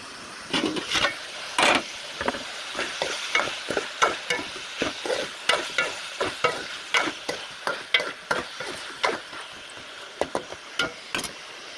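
Chicken frying in a pan while being stirred, a rapid series of sharp, close scrapes and knocks of a utensil against the pan over a light sizzle, loud and rhythmic, with no talking.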